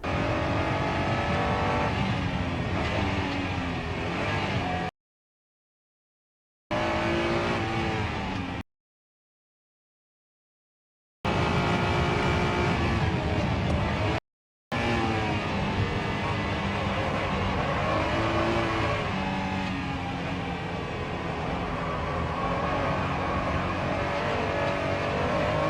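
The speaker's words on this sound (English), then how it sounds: "here's a video of a person named Ayrton Senna, who you may have heard of, driving the original Honda NSX around, I think it was Suzuka Circuit in Japan" An original Honda NSX is driven hard around Suzuka Circuit in Japan. Its loud, continuous engine note rises and falls through corners and is cut by several abrupt gaps of silence.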